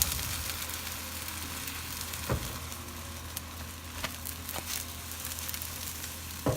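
A loaded omelette frying in a pan: a steady, close, dense sizzle of hot oil and egg holds throughout, broken by a few soft knocks of a utensil against the pan, with no one speaking.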